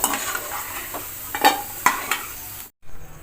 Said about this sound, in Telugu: అల్లం ముక్కలు బాగా వేగిపోయినాయండి